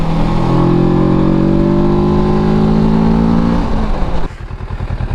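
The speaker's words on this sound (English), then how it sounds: "The exhaust, it's great, high in the RPMs." Kawasaki Versys 650 motorcycle exhaust held at high revs, a loud close drone with steady harmonics that dips and drops away abruptly, then settles into a lower idle putter.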